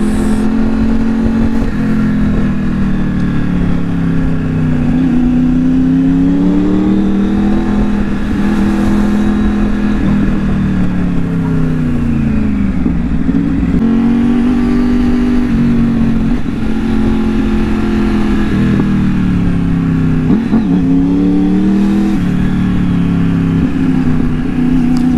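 A new motorcycle without a license plate revs hard for a wheelie, its engine droning loud and close for the whole stretch, rising and falling in repeated swells as the throttle is worked. No voices come through.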